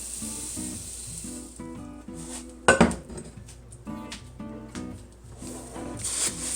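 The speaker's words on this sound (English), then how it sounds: "I'll just dump it into here." A peanut butter Rice Krispie mixture dumped into a pot, heard as a sharp clatter and thud in the middle of quieter utensil clinks and rubbing, close by, with no talk.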